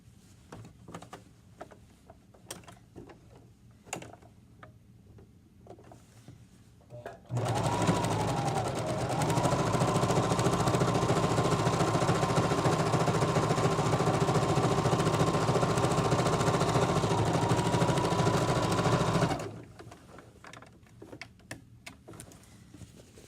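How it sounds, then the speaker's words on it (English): Sewing machine stitching a seam on a drawstring bag, backstitching at the start and end; a steady, loud whir runs for about twelve seconds with a rising pitch at the start, with quiet room noise before and after. "start with a backstitch, sew all the way down, and then backstitch at the end"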